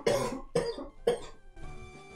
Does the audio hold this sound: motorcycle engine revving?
no